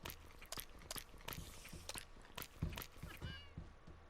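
A Minecraft cat meows several times in short video-game calls, mixed with clicky game sounds and faint background talk.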